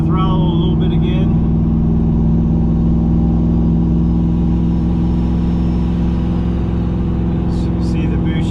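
Engine revving as the throttle rolls on from around 2,000 RPM with boost building, a loud steady mid-range drone throughout with brief higher whines at the start and end.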